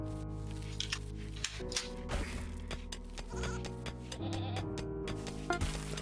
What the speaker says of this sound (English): Good, the goats have finally started multiplying.